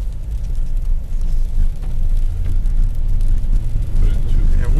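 A four-wheel-drive vehicle drives on a snowy road during a winter storm, its engine and tyres giving a loud, steady low rumble close inside the cabin, with muffled voices underneath.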